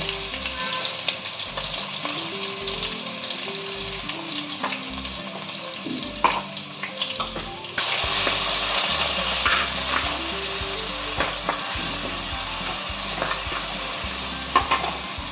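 Ginger, garlic, green chillies and coriander stems fry in hot oil for a clams pulao, giving a steady close sizzle with stirring scrapes throughout. The sizzle grows louder and brighter about halfway through, and a low tonal hum runs underneath.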